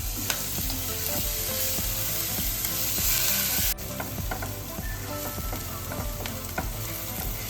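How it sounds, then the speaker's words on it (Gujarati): Loud, continuous sizzling of ginger-chili paste frying in hot oil, with repeated scraping strokes of a spoon stirring in a steady rhythm, close up. "વઘારમાં જે આદુ મરચાંની પેસ્ટ જે તીખી મેં બનાવીને રાખી છે ને એ આપણે એડ"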